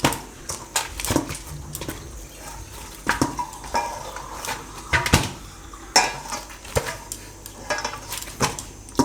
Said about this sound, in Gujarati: એકાદી ચમચી જેટલું ને મિક્સ કરવાનું.